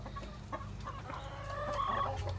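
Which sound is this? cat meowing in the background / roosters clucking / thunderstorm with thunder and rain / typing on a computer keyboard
roosters clucking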